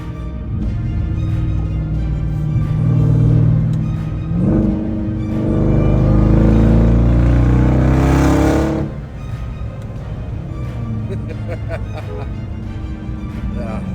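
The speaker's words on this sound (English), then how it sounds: "love that supercharger whine" A Ram TRX pickup with a Bwoody intake revs hard, its supercharger whine rising in two loud surges over a deep engine roar, then settling back to a steady idle rumble.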